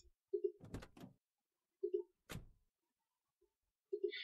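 A door in a game under development opens and closes with short creaky swings and a clunk, repeated in quick, separate bursts with silence between.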